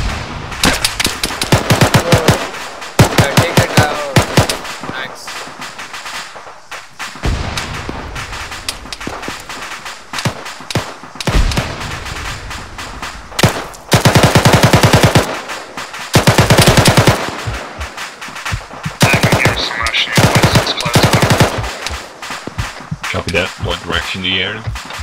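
Heavy automatic gunfire in the Arma military game, sustained loud bursts of machine-gun fire with pauses and heavier booms, continuing through most of the stretch with voices faintly underneath.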